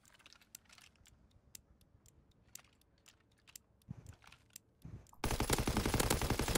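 Gunfire in a first-person shooter match, scattered sharp shots early and then a loud continuous burst of rapid automatic fire near the end, with no voices.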